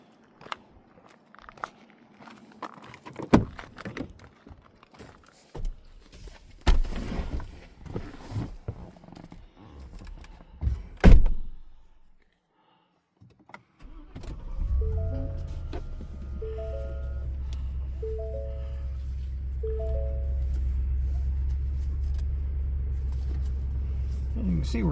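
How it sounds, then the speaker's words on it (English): Getting into a pickup truck on a mountain road near Pinos Altos, New Mexico: scattered shuffling, clunks and a door slam, a brief quiet, then the engine starts and a steady low rumble builds as the truck pulls away, with faint beeping tones. "let's go over here and get in the truck, and we'll take you on a windshield tour."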